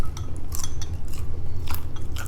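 Close, crisp crunching of someone biting into crispy fried salmon, a few sharp crackly bites and chews over a low steady background hum, with no talking.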